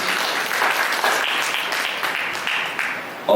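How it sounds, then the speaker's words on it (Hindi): An audience at an Arya Samaj annual festival claps to welcome a Vedic scholar, a dense, steady burst of applause that holds loud and close, then cuts off abruptly at the end. "एक बार तालियों से अभिनंदन स्वागत करें आचार्य जी का"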